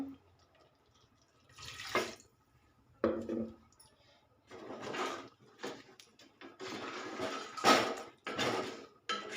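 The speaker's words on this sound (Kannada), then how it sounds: "ಇವಾಗ ನೀರು ಕೂಡ ಹಾಕ್ತಾಯಿದ್ದೀನಿ." Water poured into chicken chops in a pot in short splashy bursts, with clinks and scrapes of a spoon or vessel between pours, fairly quiet and close.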